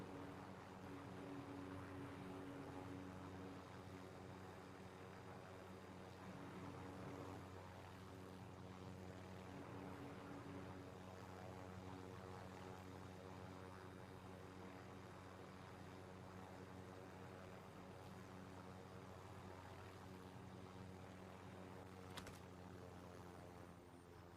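Helicopter rotors in Warzone Mobile, a shooter game, winding down: a faint, steady low mechanical drone with sustained tonal hum, quiet and continuous for the whole stretch with no talk.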